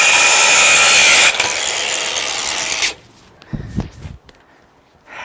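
An angle grinder cuts off a stuck fitting outdoors on a hot day, a loud, harsh, continuous grinding for about three seconds that drops in pitch partway through, then stops and leaves scattered clinks and scrapes.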